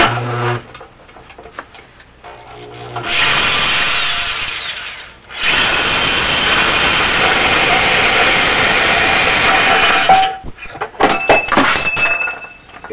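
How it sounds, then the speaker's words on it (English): A low-powered power tool cuts a hole in the end of a metal can clamped in a vise, making an air cleaner for a 1980 Dodge D150. Loud, steady grinding runs about seven seconds, followed by scattered clinks and rattles. "I'm going to cut me a hole here in the end and use this for my air cleaner."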